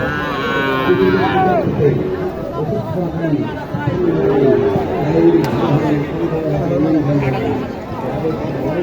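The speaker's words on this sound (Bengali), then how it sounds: "নান্টু ভাইয়ের গরুগুলাই আমি আপনাদেরকে আজকে দেখাই" Cattle moo repeatedly at a cattle market, long low calls close by, with a crowd chattering and voices talking throughout.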